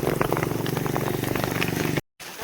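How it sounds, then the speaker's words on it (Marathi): Steady rain falls in the foggy hills of the Konkan, a dense, even patter that fills the scene and then cuts off abruptly near the end. "आणि आता आलाय पाऊस."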